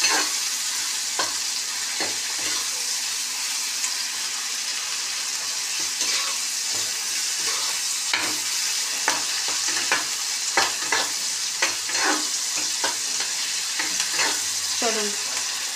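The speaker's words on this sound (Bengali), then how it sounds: "মশলাটা কষাই" Spice paste stir-fried in a pan for a rustic taro root and fish curry, with a continuous close sizzle and repeated scraping strokes of a spoon at an uneven rhythm, with almost no talk.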